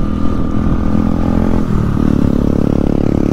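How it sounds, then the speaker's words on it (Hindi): Bajaj Pulsar 220F motorcycle fitted with an aftermarket exhaust, its engine running steadily and loud with a throaty rumble that swells slightly toward the end, no talking over it. "ये वैसे पल्सर 220 एफ है एग्जॉस्ट के साथ"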